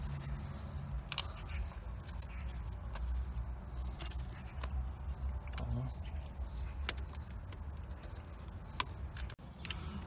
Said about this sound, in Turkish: Aks görüğünü buradan kesip alıyorum.